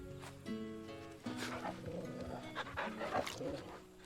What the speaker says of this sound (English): Hey puppy, can I pet you?